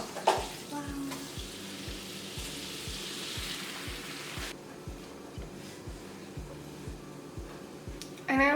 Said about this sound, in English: we'll just mix this butter down until it's all melted, and then we'll go ahead and add the flour and make a roux